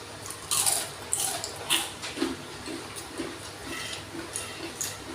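Crunchy fried chicken skin, crisped with a water-frying method, is bitten and chewed close to the mic, producing a series of sharp crackling crunches at irregular intervals that grow softer as chewing continues.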